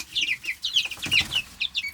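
Growing baby chicks cluck and cheep in a brooder, a busy flurry of short, high chirps in an uneven rhythm, fairly close and moderately quiet, with no talking.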